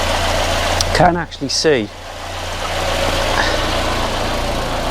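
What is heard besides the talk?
Volvo 480 engine running after exhaust repair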